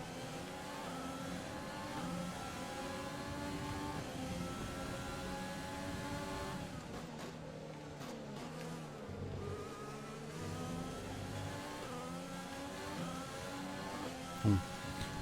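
High-pitched whining Formula 1 car engines from the racing game F1 2020, a steady continuous drone of several cars with rising and falling pitch as they rev through corners, with no one talking over it.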